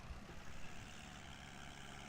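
A ZT323 tractor engine idles with a steady, low, continuous rumble on a farm, faint and even with no talking.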